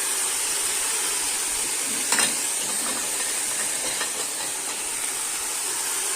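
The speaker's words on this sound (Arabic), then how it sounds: "نسيب اللحمه نحورها لحد ما تغير لونها" Pieces of beef sear in a pot for soup, giving a steady, fairly faint sizzling hiss throughout with a few brief crackles.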